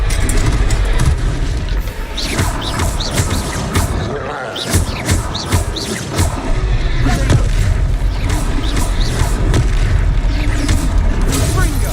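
Repeated booming blasts from the Confringo fire spell in the Hogwarts Legacy video game, several heavy bursts landing close together over rumbling combat noise, with brief game voices in between.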